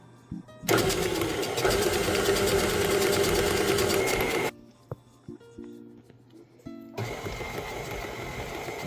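An electric mixer whirs through butter dough for bourbon pecan sandies in two close, steady bursts. Brief clicks and bumps fill the quiet gap between the runs.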